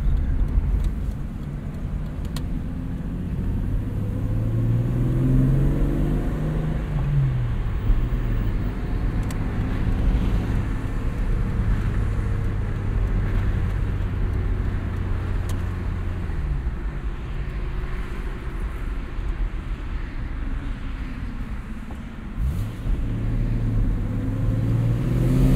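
A 1998 Jeep Cherokee with a five-speed manual gearbox drives along, its engine droning continuously and rising and falling in pitch as it revs and shifts, loud and steady under road rumble with no talking.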